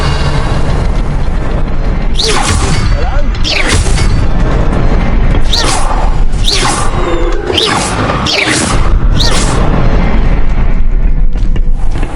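Confringo spell explosions in a video game: a string of about six loud booming blasts, each with a whooshing burst, rolls over a rumbling, continuous background.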